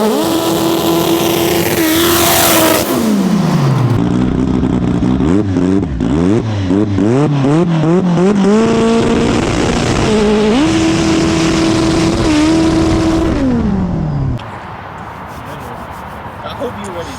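An AWD turbocharged Honda B-Series street car accelerates hard on plain asphalt, its engine climbing through gears with sharp rising revs, shift drops and turbo whine, loud and close, before easing to a lower idle-like hum.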